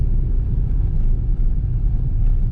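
An automatic car pulls away on a hill start during a driving test route in Dun Laoghaire, a steady low engine rumble and road drone close and continuous throughout.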